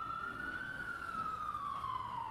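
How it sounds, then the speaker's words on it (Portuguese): An ambulance siren playing from a video, a steady sustained wailing tone that slowly rises then falls, heard at moderate level over a faint background hiss with no talking. "Chamada de ambulância."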